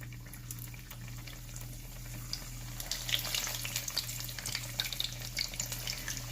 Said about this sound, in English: then you're gonna go ahead and fry your empanadas